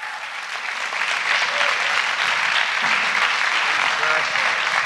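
Congregation at a revival church service applauds to welcome a guest speaker, full and loud sustained clapping from a large room, with a few cheers and voices mixed into the roar.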